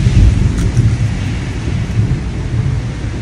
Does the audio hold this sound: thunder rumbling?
yes